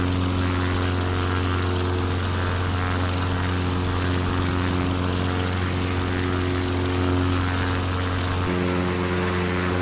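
A bush plane's propeller engine drones loud and steady as the aircraft takes off on Kodiak Island, Alaska, a constant close hum with a slight shift in tone near the end.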